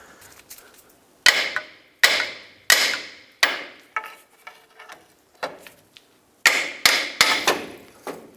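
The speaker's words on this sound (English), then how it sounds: "I'm going to tap with a hammer at the same time." Sharp metallic hammer strikes on a 1996-2002 Toyota 4Runner front lower control arm ring out one after another, about a dozen irregular taps with brief pauses, close and loud.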